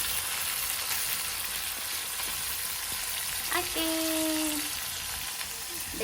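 Fish pieces frying in a pan of hot oil, a steady loud sizzle throughout with brief spoon or pan sounds partway through.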